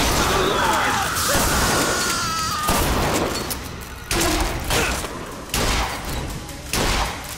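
Shotgun blasts ring out in Bioshock Infinite, several loud booming shots in irregular bursts amid thuds and combat noise, with someone talking over the fight.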